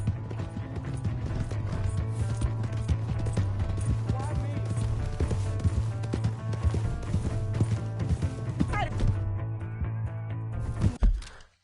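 A horse gallops in the Red Dead Redemption 2 game, a steady rapid clip-clop of hooves under a constant low drone and game effects, with voices speaking over it before it cuts off abruptly.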